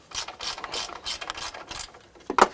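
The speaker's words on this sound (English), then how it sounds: "You can also use a socket, but sometimes you have a tight clearance here, so these gear wrenches sure make it easy." Gear wrench ratcheting while loosening strut nuts on a Lexus GX suspension, a rapid run of close, sharp metallic clicks in quick bursts, with a louder final click.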